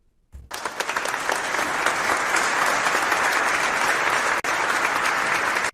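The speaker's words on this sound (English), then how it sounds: "he is still talking at the same time as the applause is going on" A crowd bursts into sustained applause that holds steady and loud throughout, with a momentary dip near the end.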